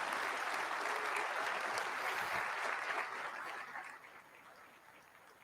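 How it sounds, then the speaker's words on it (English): A convention crowd at a political party's national gathering claps in a loud, dense burst of applause that fades gradually toward the end. "So please, a round of applause for Mr."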